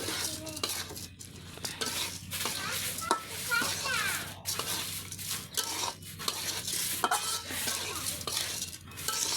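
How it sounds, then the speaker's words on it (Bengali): Rice and lentils being stirred and turned in a pot while frying for khichuri, with repeated scraping of a spoon against the metal and a soft sizzle underneath, close and continuous, with faint voices in the background. "এখন দিয়ে দেবো চাল ডাল একসাথে করে রাখছিলাম ধুয়ে। এই যে একটু নাড়াচাড়া করে উল্টায় পাল্টায় দিব।"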